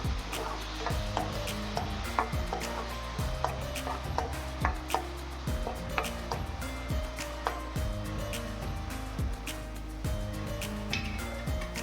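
A spoon stirs coarsely pureed tindora (ivy gourd) in a pan on a low gas flame, giving soft repeated scraping and tapping strokes in a loose rhythm, close and fairly quiet, with a faint sizzle beneath.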